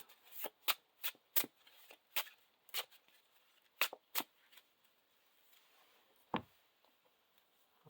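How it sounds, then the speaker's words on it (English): Playing cards from a Lord of the Rings living card game being shuffled into a deck at a tabletop, a series of sharp crisp riffles and taps in uneven bursts, close and fairly quiet, with no talk. "So we're shuffling that Tree People back in."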